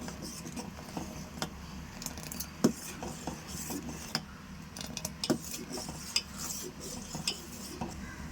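A spoon stirs milk in a pot on the stove while making rasgulla, with steady scraping and occasional metallic clinks over a low simmering hiss; no talking.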